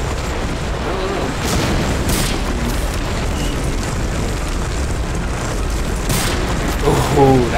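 Booming gunfire and explosions in the World War II shooter Medal of Honor: Allied Assault, Breakthrough expansion, heavy low rumbling blasts with a few sharp reports, loud and sustained, with players talking over it.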